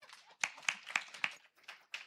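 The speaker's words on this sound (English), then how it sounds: "So clap for you." Audience at a medical conference applauding briefly; a handful of distinct, fairly faint claps in an uneven rhythm, with no talking over them.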